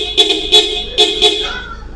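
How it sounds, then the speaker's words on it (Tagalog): Stock horn of a Mitsubishi Destinator sounding in four short, loud honks with a bright dual-tone ring, followed by a brief quieter tail. "So, ang pakinig ko ay parang dalawa ang busina niya."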